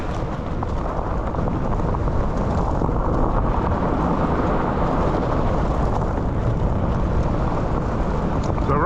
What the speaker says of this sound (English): we're not pedaling, just all the way on the throttle